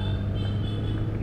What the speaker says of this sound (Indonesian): mesinnya tuh ngerong-ngerong ya ibaratnya, biarin gak masalah kan, mesinnya juga membantu pengereman daripada saya harus berpangku tangan dengan rem